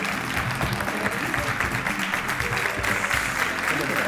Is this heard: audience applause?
yes